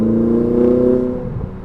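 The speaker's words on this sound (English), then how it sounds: "I can hear those turbos spooling up when you put a little bit of load on it, which sounds really cool" Turbochargers on a modified Ferrari 488 spool up under load, a close whirring engine drone with steady tonal layers that holds briefly, then fades and drops toward the end.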